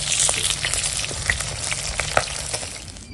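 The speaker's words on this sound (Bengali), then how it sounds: "দেখো এখন মাছগুলো সব ভাজা হয়ে গেছে" Fish, bhetki, frying in hot oil: a steady dense sizzle with bubbling crackle, close and continuous, broken by a few sharper spits and pops, with no talking.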